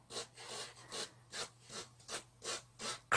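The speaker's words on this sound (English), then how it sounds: "Just by scraping that surface creates the chisel marks" Rhythmic scraping of a tool across a carved diorama surface to make chisel marks for Paris catacomb walls, about eight quiet back-and-forth strokes in a steady pattern, close up with no talk.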